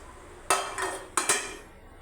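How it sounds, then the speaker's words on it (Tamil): Mustard seeds and chana dal fry in hot oil in a pan, giving two quick bursts of crackling spatter over a quiet background. "கடுகு, கடலைப்பருப்பு பொரியிடுங்க."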